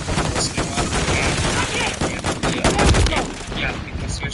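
Rapid gunfire in Modern Warfare 3 fills the whole stretch in loud, dense bursts of overlapping shots, with a heavier blast near the end and a voice speaking over the shooting.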